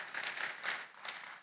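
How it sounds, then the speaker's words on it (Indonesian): A church congregation claps steadily, a dense wash of many hands in a large room, moderately loud and continuous without voices. "Beri tepuk tangan yang meriah buat nama Tuhan."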